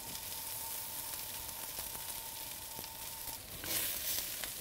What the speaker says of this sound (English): You do need to let the food sit on the hot surface for the onions to caramelize.